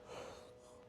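A breathy yawn-like exhale from a person during a casual podcast chat, a brief soft rush of air tapering off over under a second, close and fairly quiet with no talk over it.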